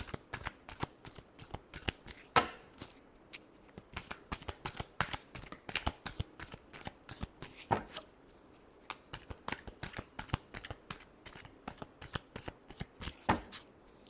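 A deck of tarot cards being shuffled by hand, with a rapid run of crisp riffling flicks and slaps repeating for the whole stretch, close and clear with no talking.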